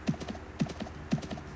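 Horse hooves clip-clopping in the online game Mabinogi, three evenly spaced groups of crisp hoof clops in a steady walking rhythm, fairly close with no voices over them.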